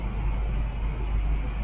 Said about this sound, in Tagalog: So moment of truth, on na natin yung aircon.